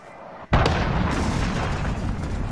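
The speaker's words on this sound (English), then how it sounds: "Enemy cruise missile incoming" An enemy cruise missile strikes in a video game: a sudden loud boom hits half a second in, then a thick rumbling roar lingers and slowly settles.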